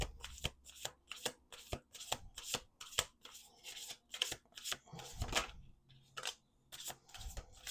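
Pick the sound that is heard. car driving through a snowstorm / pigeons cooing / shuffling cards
shuffling cards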